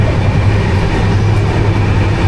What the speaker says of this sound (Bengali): ট্রেনটা এত স্পিডে চলছে